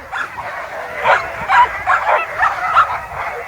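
Eager sled dogs yip, whimper and bark in a steady chorus at the start of a sled-dog race, close and loud with overlapping high calls.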